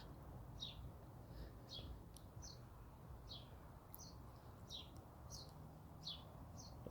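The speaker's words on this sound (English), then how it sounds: "Listen to the birds chirping." Birds chirp in a blossoming tree where one has a nest, short high tweets recurring every second or so, faint and a little distant over a low outdoor rumble.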